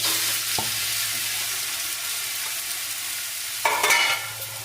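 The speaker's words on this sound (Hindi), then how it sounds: "इसको चलाएंगे धीरे धीरे।" Chopped apple frying in desi ghee for apple halwa, a steady soft sizzle with a few scraping stirs of a spoon against the pan, one sharper scrape near the end.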